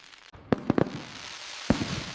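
Fireworks explode at an evening summer barbecue: three sharp booms in quick succession, then a fourth, each followed by a rumbling trail over a steady background.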